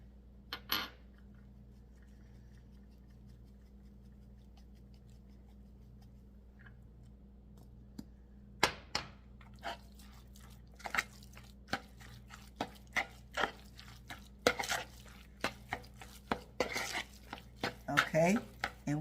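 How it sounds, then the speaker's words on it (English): Chopped onion being mixed into a fresh salmon croquette mixture, with sporadic wet clicks and utensil taps against a bowl that start quietly and grow busier and sharper toward the end, heard close over a low steady hum. "we're gonna just mix that onion up in there"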